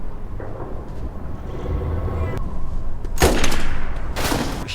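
Gunfire in a sci-fi film: a low rumbling backdrop broken by two loud, sharp shot bursts about a second apart near the end.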